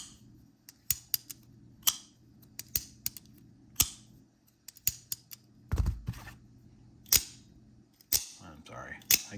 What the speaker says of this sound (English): I geek out on the sound of knives.